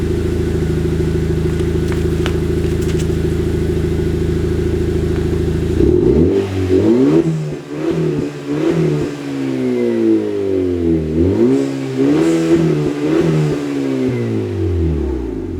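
A 2021 Acura TLX A-Spec fitted with a cold air intake and a muffler delete settles at a steady idle, then revs repeatedly in short rising and falling bursts, loud and close, with a throaty surge on each blip.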